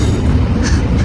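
Train rolling along a railway on a commuter route, a steady, loud low rumble of wheels and carriages throughout, with no talk.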